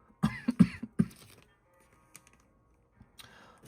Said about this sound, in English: as you can tell, I'm coughing constantly.